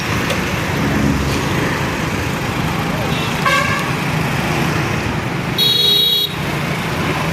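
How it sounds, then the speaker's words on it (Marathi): Many vehicles crowd Ashram Chowk in Uruli Kanchan: a loud, continuous rumble of cars and trucks, broken by a couple of short horn toots and one longer honk near the end. "आता हे बघा पुण्यातून आलेले वाहनं भरपूर आहेत आणि वाकडे तिकडे गाड्या घातली की ट्रॉफिक होती जरा"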